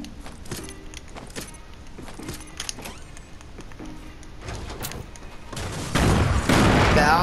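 Fortnite bomb blasts level a house, and a loud, roaring burst of explosive noise builds near the end over earlier scattered thuds and clatter.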